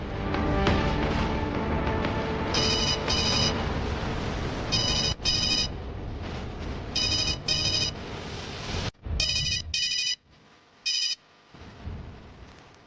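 Telephone ringback after a call is placed: repeated paired electronic ring tones in regular bursts, audible over background music that cuts out near the end.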